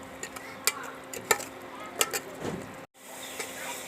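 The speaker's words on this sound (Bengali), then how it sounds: "আমি ভালো করে মশলাটা কষিয়ে নিয়েছি।" Spice masala with chilli powder is stirred and fried in a pan, a soft sizzle under a handful of distinct spoon scrapes and clinks, then a brief cut to silence before quieter frying resumes.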